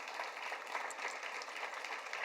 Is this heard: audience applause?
yes